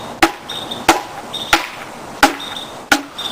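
A length of kudzu vine is bashed against a hard surface to loosen its fibers: five sharp, solid impacts at uneven intervals, loud and close, each followed by a short rustling scrape.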